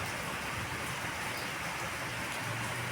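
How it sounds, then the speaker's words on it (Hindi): Steady, even hiss of morning rain falling outdoors, a soft continuous wash with no distinct drops standing out, heard alone without voices. "मैं सुबह सो के उठी थी और देखा बारिश हो रही थी"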